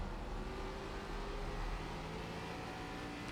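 An ARCA race car in the iRacing simulator at North Wilkesboro accelerates under early throttle, a steady loud engine drone with rising tonal whine, continuous and alone without talk.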